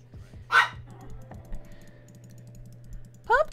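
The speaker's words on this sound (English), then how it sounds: "Lulu is just barking up a storm. Can you guys hear her barking?" A puppy gives two short, sharp barks, one early and one at the end, over a quiet indoor background with faint keyboard tapping and a steady low hum.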